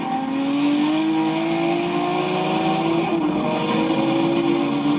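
A Toyota Supra street racing, caught on an old recording: a loud, steady engine roar whose pitch climbs smoothly as it accelerates, heard alone throughout.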